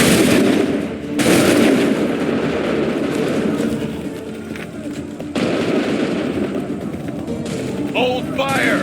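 Loud musket volleys crack out in the Assassin's Creed 3 video game, with heavy bursts of massed fire rising over constant battle din and a voice calling out near the end.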